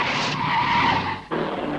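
Cartoon tires skid on slick skid liquid, a loud close screech that slides across nearly two seconds, breaks off briefly and then resumes, with no voices.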